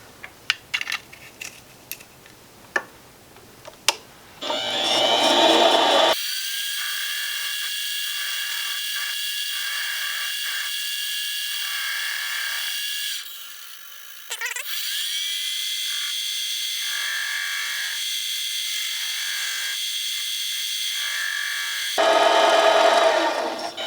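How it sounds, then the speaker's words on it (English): A lathe with a carbide bit cuts a glowstone and tiger's eye ring down to diameter. A few sharp taps come first, then a loud, steady machining whine holds for about seventeen seconds with one brief dip. "Now we're going to go in with the lathe. I'm just using a carbide bit here."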